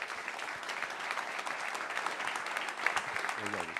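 An audience applauds steadily at an annual plenary gathering, a dense, moderately distant patter of clapping that fills the whole moment, with a brief voice at the end.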